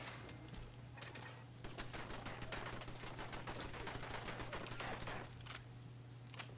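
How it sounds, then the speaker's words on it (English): Automated turret in the Fallout 4 video game firing long rapid bursts, dense rattling gunfire that runs steadily for several seconds over a constant low hum. "I hear a turret"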